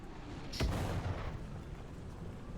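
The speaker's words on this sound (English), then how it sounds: "Gonna get hit by artillery and die." A single booming artillery blast goes off in a video game, one sharp heavy impact with a rumbling tail fading over the next second against a steady low background.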